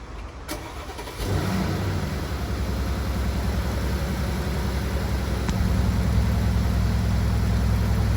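An Aston Martin Vantage M177 V8 with its secondary catalytic converters deleted fires up with a sharp crank, then settles into a loud, steady, deep idle that continues unbroken.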